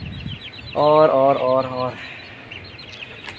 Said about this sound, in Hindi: मुर्गियाँ जो है पता नहीं क्यों दोबारा अंदर घुस गई हैं